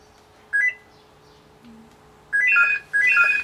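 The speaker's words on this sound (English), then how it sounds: "That would be my phone." Mobile phone ringing in a home garage workshop, short bursts of electronic ring tones, one brief burst followed after a pause by two longer, louder ones, with no talk over them.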